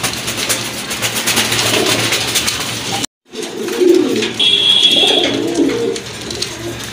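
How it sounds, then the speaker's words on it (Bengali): A pair of Kagoji running pigeons with upright head crests coo softly, low repeated coos in a noisy bird-filled space, with a brief dropout midway. "মাশাল্লাহ এক জোড়া কাগজি কবুতর, এগুলো সম্পূর্ণ রানিং কবুতর, খুবই সুন্দর।"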